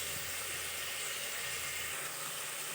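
Onions frying in oil in a pan for vegetable sambar give off a steady, even sizzling hiss, close and continuous with no pauses.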